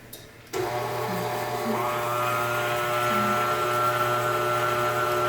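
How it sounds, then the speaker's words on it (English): Electric mixer beating eggs, sugar, oil and vanilla for cupcake batter, switching on after a brief quiet moment and then whirring steadily and loudly, its motor pitch wavering slightly, with no talking. "We have a handy dandy mixer."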